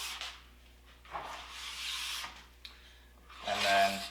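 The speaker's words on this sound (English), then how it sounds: "Put both of your thumbs on the back of the scraper like this, and just remove the wax" A plastic scraper pushes glide wax off the base of a cross-country ski in several short, faint rasping strokes, with a louder scrape at the end.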